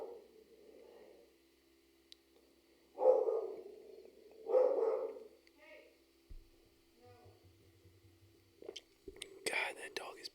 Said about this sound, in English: God, that dog is pissing me off.